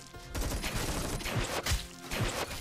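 Units open fire in the Stormgate real-time strategy game, a rapid rattling fusillade of gunshots with several sharp bursts standing out over two and a half seconds, with no talking.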